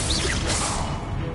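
A magic disarming spell effect in the Hogwarts Legacy game bursts out as a loud, close whooshing crash with a brief swirl, fading over about a second.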